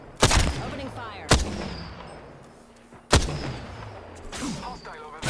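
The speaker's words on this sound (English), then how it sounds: "Opening fire." Gunfire in the Apex Legends battle royale game: three loud, sharp shots ring out near the start, around one second and just past three seconds, each trailing into a decaying echo, with game voice chatter between bursts.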